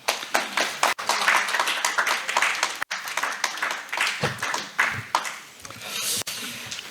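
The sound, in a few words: audience applause welcoming a speaker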